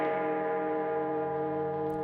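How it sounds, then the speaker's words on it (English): Great cathedral bells in a silent film ring out in a steady, sustained resonant tone, a dense cluster of bell harmonics that holds loud and even throughout with no talk. "the simple joy of ringing the great cathedral bells"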